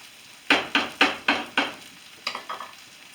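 Roast beef hash crisps in a pan as a utensil scrapes and stirs it in a quick run of about five sharp strokes, then several softer ones, over a quiet sizzle.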